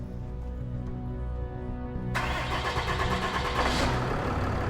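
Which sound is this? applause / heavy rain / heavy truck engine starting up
heavy truck engine starting up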